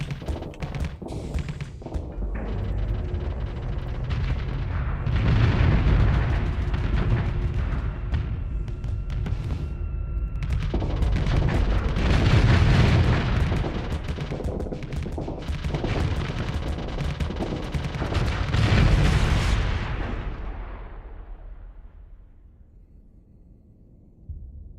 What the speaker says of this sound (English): Oh, the flak cannons and devastator cannons,